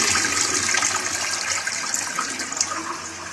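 A Briggs toilet flushing, water gushing and rushing steadily through the bowl at close range for a few seconds, with no voices over it.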